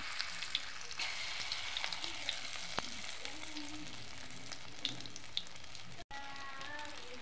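Chicken pieces frying steadily in hot oil, a continuous dense sizzle with small pops and crackles throughout, close up, with a brief clatter near the end and no talking.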